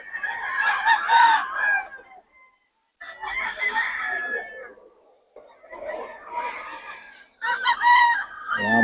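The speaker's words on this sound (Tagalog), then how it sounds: "Ang manok ni Boss Ray yan." Gamefowl chickens cluck and a rooster crows in a few loud bursts separated by short pauses, close by, with bits of background voice.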